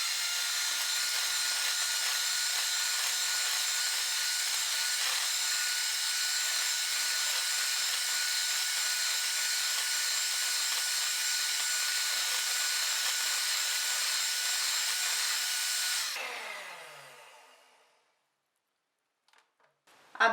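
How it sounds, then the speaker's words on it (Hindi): Pizza muffin batter with crushed black pepper, crushed red chilli, salt, oregano and cheese is beaten by an electric mixer, making a steady close whirring drone that winds down and stops near the end. "इन सबको मैं पहले हल्का सा बीट करूंगी।"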